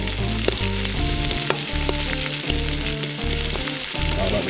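Jelly ear fungus stir-frying in a hot pan with sardines and hedge garlic leaves, a loud, steady sizzle with stirring scrapes, under a rhythmic music track and with no voices.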